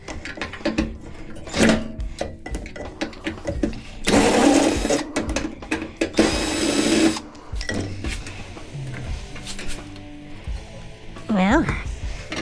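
A handheld power drill whirs in two short bursts amid clattering and handling noises while microwave transformers are dismantled for copper scrap, with people talking nearby.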